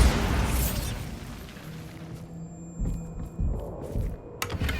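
A Bombarda spell blast in the video game Hogwarts Legacy, a burst of explosive noise at the start that fades into a low rumbling decay, followed by a few softer thuds and pops.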